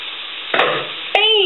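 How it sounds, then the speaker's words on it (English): Black-eyed peas tipped into a pan of frying onion mixture, bringing a sudden rush of rattling and sizzling that swells over a steady background hiss, close and loud, with no talking. "I'm going to turn my onion mixture down. And I'm going to add my beans."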